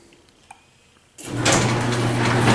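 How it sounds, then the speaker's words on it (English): A Chamberlain garage door opener, triggered by a smart hub app, starts up after a quiet moment and drives the garage door open with a loud, steady mechanical rumble and whir that continues to the end. "there goes the door"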